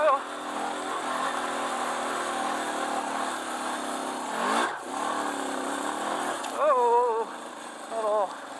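Suzuki DR650 motorcycle engine laboring up a dirt hill climb in the Mojave, a steady close mid-pitched drone that rises and falls, briefly dips midway, then revs again with rising whine near the end.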